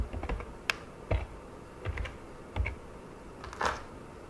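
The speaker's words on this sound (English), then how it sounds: "you're going to type in the password on the bottom of your router" Faint, sparse keystrokes on a computer keyboard as a router password is typed, a few scattered clicks and short clusters in a quiet room.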